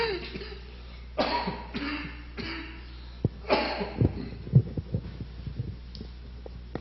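A person suffering from a bad chest cold coughs several times indoors, with harsh bursts at irregular intervals over a low steady hum, each followed by quieter throat noises.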